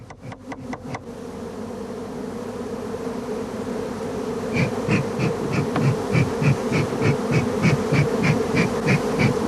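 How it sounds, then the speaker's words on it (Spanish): A honeybee swarm is transferred from an old log hive to a newly built one in rural Asturias, filling the air with a dense, close buzzing hum that grows louder and busier. A few sharp taps are heard at the very start. "La tarea que ahora están realizando es un trasiego, es decir, el paso del enjambre de un trobo antiguo a uno nuevo recién construido."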